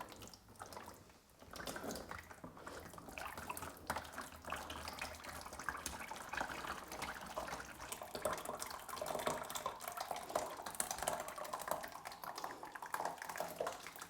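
Liquid plaster pours into a mold for clay reclaim bats: a faint, continuous oozing, splashing flow that runs steadily and slightly unevenly throughout, with no talking.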